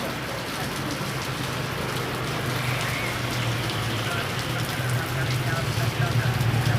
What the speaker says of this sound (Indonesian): Hujannya deres guys